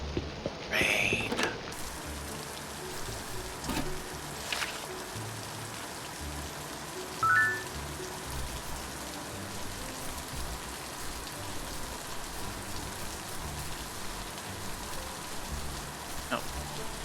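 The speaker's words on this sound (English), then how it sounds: "Rain." Steady rain falls in a video game scene, a constant soft hiss of drops with a few faint brief clicks and chimes over it.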